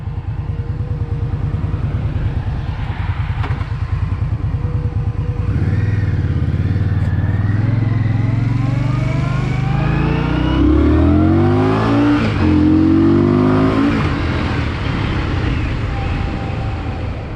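A 2020 Indian Scout Bobber Twenty motorcycle is ridden, its engine droning loud and steady, then climbing through revs as it accelerates and shifts, with wind noise throughout.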